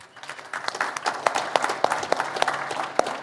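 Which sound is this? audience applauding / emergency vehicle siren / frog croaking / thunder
audience applauding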